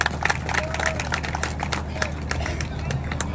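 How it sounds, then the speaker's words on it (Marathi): An audience applauds at a police station sports prize event in Junnar, with steady, dense clapping mixed with crowd murmur and a voice speaking over it. "त्यांच्यासाठी आपण जोरदार टाळ्या वाजवा."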